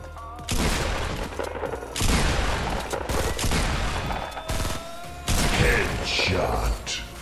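Fortnite firefights crackle with several loud bursts of rapid gunfire separated by short pauses, and a voice is heard between the shots.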